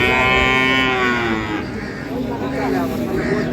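A dairy cow of an improved milking breed lows loudly and near at a busy village cattle market in Bangladesh, one long drawn-out moo with chatter and crowd noise underneath.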